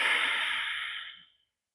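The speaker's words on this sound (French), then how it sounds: "prends un long inspire par le nez, puis expire par le nez" A single long exhale through the nose during a morning warm-up routine, close and breathy, fading out into silence after about a second and a half.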